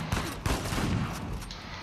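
Rifle gunfire rings out in the video game Uncharted 4, with a rapid burst of several loud, sharp shots cracking close together in quick, irregular succession.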